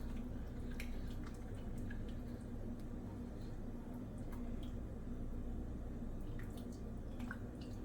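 Chickpea noodle soup is ladled into a bowl, with faint, soft wet sloshes and drips against a low, quiet background hum.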